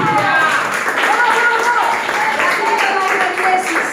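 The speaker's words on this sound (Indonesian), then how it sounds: "Tepuk tangan dulu." A church audience claps hands together in a steady burst of applause, moderately loud and continuous, with voices underneath.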